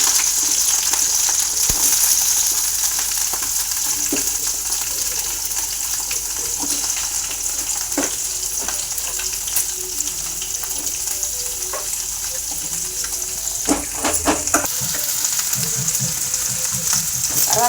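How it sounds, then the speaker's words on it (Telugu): Ivy gourd pieces fry with cumin and spices in hot oil, giving a steady, loud, dense sizzle that runs throughout, with occasional clinks and scrapes of a spoon against the pan near the end. "బాగా వేయించుకోవాలి. తర్వాత దొండకాయ ముక్కలు వేసుకోవాలి."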